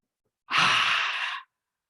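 A single deep, breathy inhale during a chair yoga session, close and clear, lasting about a second against silence.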